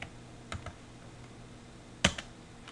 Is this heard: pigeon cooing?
no